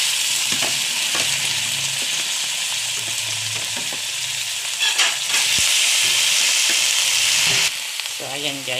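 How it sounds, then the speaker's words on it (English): Pork adobo with garlic and onions sizzling in a pan as it is stirred, a steady close frying hiss broken by scrapes and clinks of the utensil, swelling louder midway, with no talk. "i-mix ko lang yan siya para yung lasa ng garlic at saka onions magkapit sa pork"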